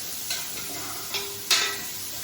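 Onions being stirred in a home kitchen pan, a faint sizzle running throughout with a few soft scraping strokes, the loudest near the end, and no talking.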